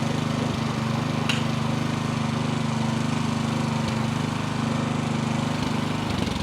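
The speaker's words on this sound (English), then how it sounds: "Turning his fuel off, lowering the idle, and shutting the machine down." A towable 34-foot lift's engine idles steadily and close by, a constant low droning hum with a couple of faint clicks, running alone before shutdown.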